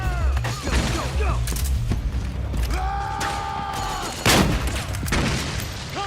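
Gunfire from the video game Metal Gear Solid 4 bursts loud and close in a chaotic battle, with booms, mechanical clanks and shouted voices mixed through the continuous shooting.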